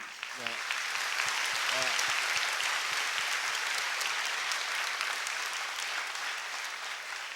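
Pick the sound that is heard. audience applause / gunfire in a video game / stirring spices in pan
audience applause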